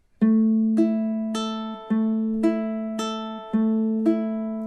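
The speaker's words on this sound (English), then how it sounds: "measure 7 should sound something like this" Ukulele notes picked one at a time in a steady repeating pattern, each ringing clearly into the next, close and alone.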